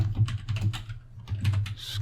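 Someone types on a computer keyboard at a desk, a near, fairly quiet run of irregular key clicks in short bursts with a brief pause midway, with no talking.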